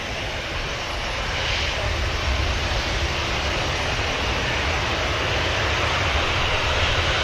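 An EasyJet airliner at Manchester Airport on its way to Paris roars with a loud, continuous broadband jet rush that stays steady throughout, heard from a distance with no talking over it.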